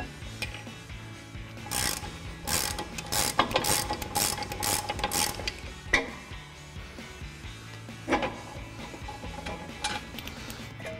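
A ratchet backs out the brake caliper bolts on a 2019-2023 Chevrolet Silverado 1500, giving quick, close runs of metallic clicking over a dense mechanical clatter, with brief pauses between runs.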